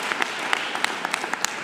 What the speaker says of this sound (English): give a round of applause to all the great PacFab employees who are getting it done for the people in this region